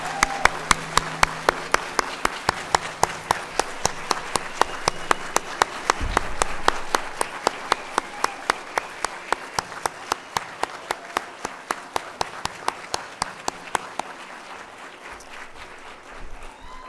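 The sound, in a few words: audience applause for the kids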